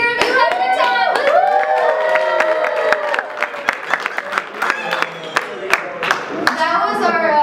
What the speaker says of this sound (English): Cheer if you had a good time.